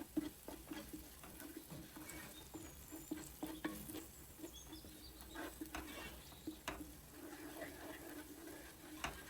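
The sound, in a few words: stirring green chilies and red chili powder into frying masala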